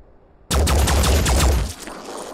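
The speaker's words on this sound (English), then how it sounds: "Preparing to fire." A rapid burst of automatic gunfire in the tactical video game Phoenix Point, a loud rattling volley of about a dozen close shots lasting roughly a second, followed by a quieter tail.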